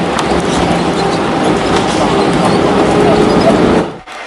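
Crowded airport train from Kastrup into Copenhagen rumbles loudly and steadily from inside the carriage, with track noise throughout before a sudden drop near the end.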